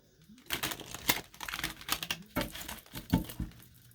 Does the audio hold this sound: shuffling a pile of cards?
yes